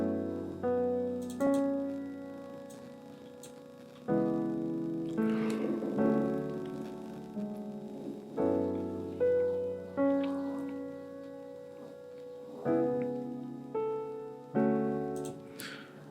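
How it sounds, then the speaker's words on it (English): Cinematic piano from the Keyscape plugin playing slow sustained chords in an amapiano track, each chord struck and left to ring and fade before the next, clear and alone. "And then I went to Keyscape again just for a piano this time."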